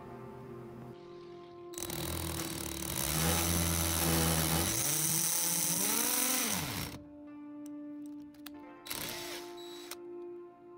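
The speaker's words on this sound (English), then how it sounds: "using just the smallest drill bit I could find to drill the holes into" A small power drill with a very small bit whirs up, runs steadily for several seconds with changing pitch as it bites into a box, stops, then gives a short final burst.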